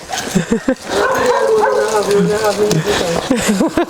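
A tied-up dog barks and yips repeatedly in close, loud bursts, with whining and human voices talking over and between the barks.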